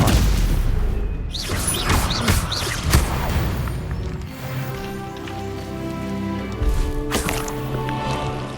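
A Stupefy spell fired during Hogwarts Legacy combat gives sharp crackling bursts and impacts, followed by a humming magical tone and another burst later, loud throughout.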